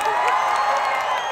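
Live comedy show audience at Expo 2020 Dubai clapping and shouting together, a dense continuous roar of cheers, whoops and applause filling the hall at steady loudness.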